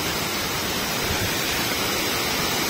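Mangardora Waterfall in Nabarangpur pours steadily, a dense, loud, unbroken rushing roar close by with no pauses or other sounds.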